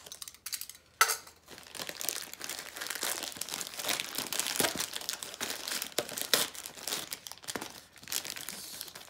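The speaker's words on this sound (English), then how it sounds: "I'm just going to tear it up." Packaging for a SLAMTEC RPLIDAR laser scanner development kit torn and crinkled open nearby, with a sharp initial rip followed by dense, continuous crumpling and crackling of wrapping at moderate loudness.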